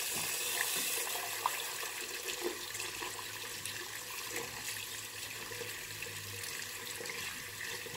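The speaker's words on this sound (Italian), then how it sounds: "Si monta semplicemente così, con un filo d'acqua calda" A thin stream of hot tap water runs steadily into a sink while semi-hard shaving soap is being lathered, a continuous close hiss with no talking.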